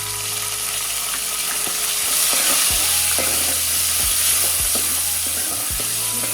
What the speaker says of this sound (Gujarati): આદુ અને મરચાંને કટકા ઉમેરીશું પછી સારી રીતે હલાવી લઈશું